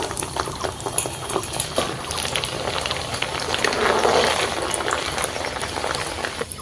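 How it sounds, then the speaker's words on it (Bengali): Chickpea dal fries in hot white oil in a wok, a continuous bubbling, crackling sizzle that swells midway, with a voice speaking over it. "কড়াইয়ের মধ্যে সাদা তেল দিয়ে দিচ্ছি পরিমাণ মতো তেলটা গরম হওয়ার পর কিছুটা ডাল দিয়ে দিচ্ছি ভেজে নেওয়ার জন্য"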